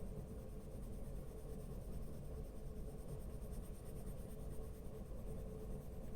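Colored pencil shading over cardstock layered on a few extra sheets, a steady close scratchy rasp running continuously without pause and no talk.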